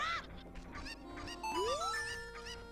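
Cuccos clucking and squawking in the video game Zelda Ocarina of Time, a few bright, rising bird calls at moderate volume over a steady background hum.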